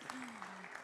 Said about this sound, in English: Last round of applause for them.